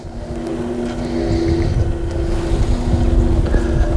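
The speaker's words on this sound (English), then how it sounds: "That wind's really picked up." Strong wind gusts across an open lake on a cold day, a steady blustery roar with a low hum and water noise, growing a little louder through the stretch, no voices.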